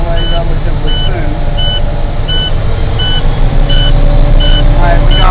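A truck's low air pressure warning buzzer sounds during an air brake inspection as repeated short, evenly spaced electronic beeps over a loud, steady idling engine drone.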